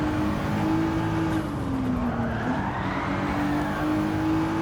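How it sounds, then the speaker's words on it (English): A race car in Gran Turismo 7 brakes into a corner with a sustained tire squeal that bends in pitch over a loud, continuous engine drone, with no voices. "Let's brake earlier here. Let's see how much braking we needed."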